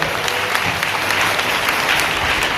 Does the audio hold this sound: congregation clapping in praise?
yes